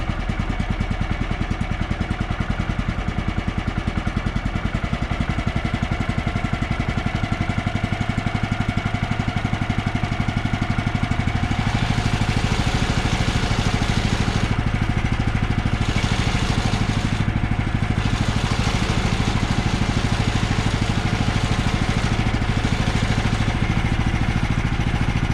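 A sawmill engine drones steadily at raised idle, loud and close, while a faint metallic ping from a prematurely engaging clutch comes and goes over the constant running noise.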